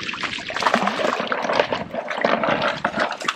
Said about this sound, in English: Gotta wash the bottom of our bucket, brother.